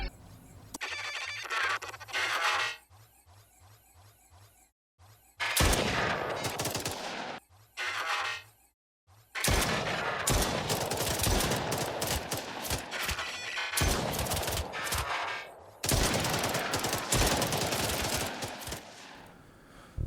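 Synthesized robot enemy sound effects for the video game Wireblade, made in Ableton: harsh, buzzing mechanical bursts and rapid rattling, gunfire-like volleys separated by short silences, loud and without talk.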